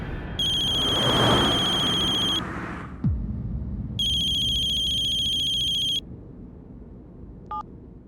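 A phone rings with a bright electronic ringtone in two bursts about two seconds long, separated by a pause. A low rustle and a brief thud sound between the bursts, and a faint short chirp follows at the end.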